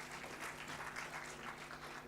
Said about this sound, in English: with a big round of applause, let us welcome Dr. Anagha Bhatt from Bangalore